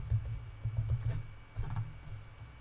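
Fast typing on a computer keyboard while entering data commands, with irregular bursts of soft, close keystrokes separated by a short pause.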